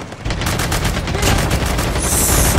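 Shotgun blasts fire in the zombies mode of the video game Call of Duty Mobile, a loud, dense run of repeated gunshots packed closely together with no break.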